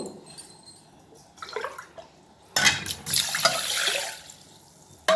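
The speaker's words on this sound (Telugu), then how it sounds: "ఒకసారి కడిగేసేసి నీళ్ళతో మళ్ళీ పోస్తాను నీళ్ళు పోస్తానండి" Water is poured and swished over sago pearls in a bowl to wash them, a splashy rush following some quieter rustling and clinks.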